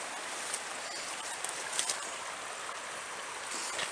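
A river flows a few feet from a stone ruin by an old bridge line, a steady broadband rush of water that stays constant and fairly quiet throughout.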